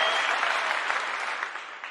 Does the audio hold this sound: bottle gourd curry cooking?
no